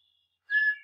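After near silence, a bird gives a short, clear whistled song phrase of a few bright notes, close and fairly loud, with no talking.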